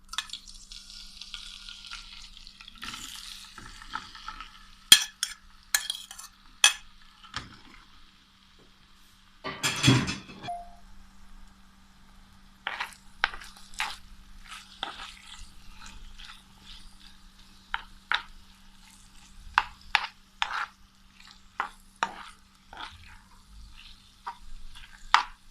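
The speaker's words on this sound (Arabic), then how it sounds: "ولما تسخن هبتدي أنزل بفراخ متقطعة شرايح زي بتاعة الشاورما" Chicken strips cut like shawarma sizzle and are stirred in a pan with a little oil, giving soft crackling interrupted by sharp clacks and scrapes of a utensil against the pan, fairly quiet with no voices.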